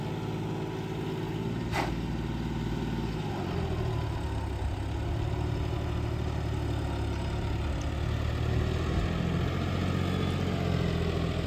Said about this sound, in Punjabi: ਦੇਖੋ ਫਿਰ ਵਧੀਆ ਚੱਲਦਾ ਬਾਈ ਫੁੱਲ ਸ਼ਾਹੀ ਟਰੈਕਟਰ